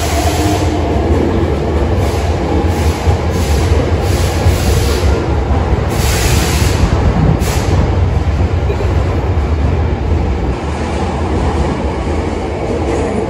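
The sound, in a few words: special rapid limited express train in Kyoto, Japan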